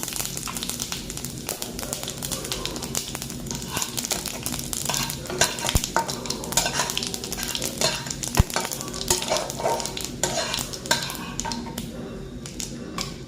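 Cumin seeds and bay leaf frying in white oil in a kadai, a steady close sizzle with scattered clinks of a utensil against the pan and spoon-stirring scrapes throughout.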